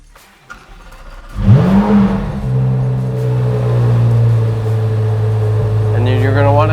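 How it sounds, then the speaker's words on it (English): A C8 Corvette Z06 with the LT6 engine starting up: a starter whine rises into a loud catch and a high idle that settles to a steady drone, close by, with a faint voice underneath. "All right, so we're gonna start the car here."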